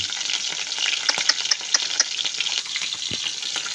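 Freshly harvested lunawan fish frying whole with its scales on, a steady close crackling sizzle of hot oil with scattered sharper pops throughout.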